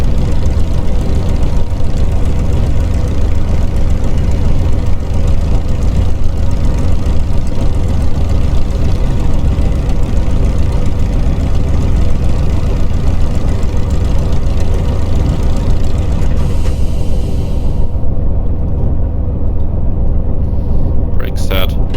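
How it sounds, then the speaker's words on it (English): A Supermarine Spitfire L.F. Mk IXc engine idles in a flight simulator, a loud continuous low rumble that holds steady throughout, with a voice talking over it. "we've got to run the engine for at least 30 seconds in idle"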